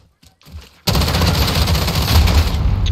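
After a near-silent start with faint soft sounds, loud, dense automatic gunfire from the shooter game Call of Duty: Modern Warfare bursts in close and continues steadily to the end.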